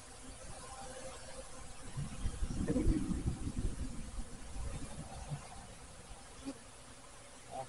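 A low, steady buzzing of many honeybees at a hive swells in the middle and then settles back, with no voices and a faint background hum.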